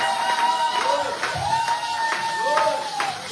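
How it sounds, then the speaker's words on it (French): A church congregation acclaims and claps during a Sunday service, with crowd cheering and rhythmic clapping mixed under a sustained tone and voices. "Est-ce que quelqu'un peut donner encore le fond d'acclamation à Jésus"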